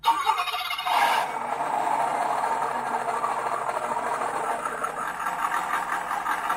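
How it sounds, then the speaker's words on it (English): A WPL RC truck's onboard sound system plays a simulated engine start: a brief cranking burst, then a steady synthetic idle rumble that holds throughout, small and close with no talking. "it will fire up the engine with the sound."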